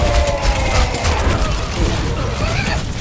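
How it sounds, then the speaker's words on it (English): An enemy turret fires in Apex Legends, a dense, continuous burst of rapid gunfire that fills the whole stretch loudly with no pauses. "Enemy turret ahead."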